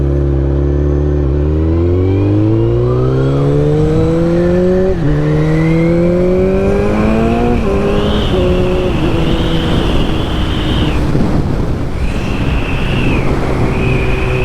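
A Kawasaki Z1000 motorcycle engine revs loudly and close by, pitch climbing in stepped surges through several rises and shifts, then holding a high, strained whine with brief dips near the end.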